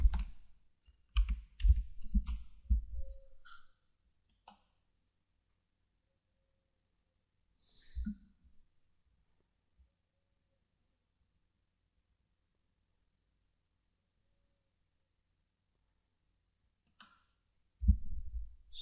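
Keys clatter on a computer keyboard, with mouse clicks, while a search is entered on an exam scheduling website. A quick burst of keystrokes opens, a few isolated clicks follow after long quiet gaps, and another short burst closes.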